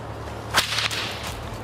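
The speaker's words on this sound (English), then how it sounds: "particularly the Florida cow whip, which was a tool for herding cattle in the dense palmetto and scrub environments of the region" A Florida cow whip, the herding tool used in palmetto scrub, cracks once with a sharp loud snap, followed by fainter swishing tails of the lash.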